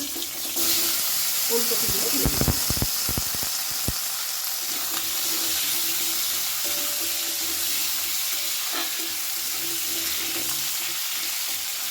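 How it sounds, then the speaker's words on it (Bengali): Tempering spices frying and sizzling in a pan while being stirred, a loud steady crackle with a cluster of sharp utensil knocks early on, continuing alone to the end. "ফোড়নটা কয়েক সেকেন্ড নাড়াচাড়া করে নিয়েছি"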